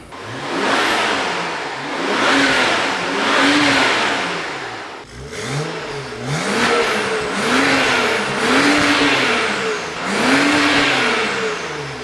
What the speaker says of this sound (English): it's time to start the car with the new exhaust and see how it sounds